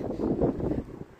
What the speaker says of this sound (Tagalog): At saka mahangin.